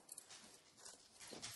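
A dog whimpers softly right up against a microphone, a short run of faint, thin whines and snuffles with no talking.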